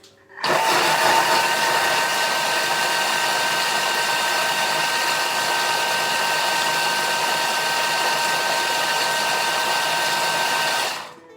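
A Thermomix blends blueberry muffin batter at speed 6, a steady, loud whirring motor hum held evenly for about ten seconds before cutting off, with no talking.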